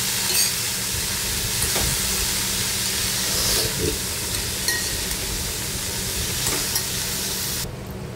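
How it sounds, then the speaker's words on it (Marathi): Cabbage vegetable, also cooked with fresh coconut, is stirred and mixed in a hot pan, giving a steady loud sizzle and hiss with faint scraping of the spoon throughout. "सगळं एकजीव करून घेऊया, मिक्स करून"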